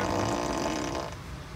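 A Tesla car plays its novelty fart sound effect, a loud, low, buzzy blast that holds steady for about a second and then fades into a softer tail.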